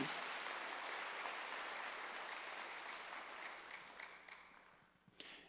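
A church congregation at a Wednesday service claps in a soft, continuous wash of applause that holds for several seconds before thinning out and fading near the end.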